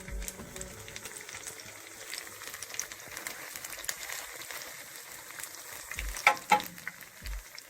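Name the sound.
saltfish fritters frying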